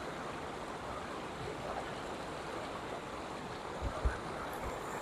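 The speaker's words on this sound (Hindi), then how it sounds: "बड़ी बड़ी चट्टानों के दरमियान से ये पानी" Mountain stream water rushes between large rocks at Kala Pani near Thandiyani, Abbottabad, a steady, moderately quiet outdoor wash of flowing water with a few soft thumps near the end.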